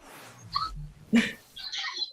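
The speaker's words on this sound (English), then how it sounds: "Watching video of her German Shepherd Thor still brings a smile to the face of Lauren Myers of Watsonville." A German Shepherd puppy in a home recording gives a few short whimpers and yelps, with a soft breathy gap between them. The sounds are fairly close, moderate in level, and no one talks.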